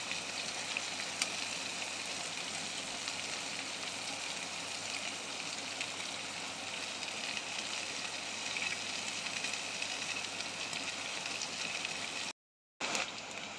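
Curry leaves dropped into hot oil alongside frying onion and green chilli for a cucumber, dried prawn and tomato curry, producing a steady, dense crackling sizzle that runs continuously at moderate level with no talk.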